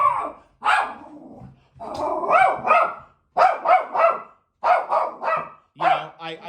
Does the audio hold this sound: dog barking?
yes